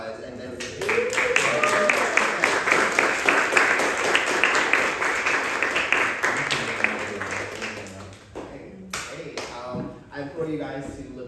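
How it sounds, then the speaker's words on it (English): An audience at an artist talkback applauds in a sustained round of clapping for several seconds, then it thins out to scattered claps as people begin talking. "let's do one more round of applause"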